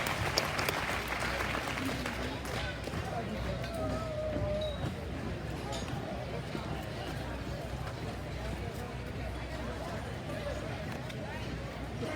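Kids at an Arizona National swine showmanship contest get a steady round of applause from an arena crowd, rather faint and distant, mixed with background babble and talk throughout.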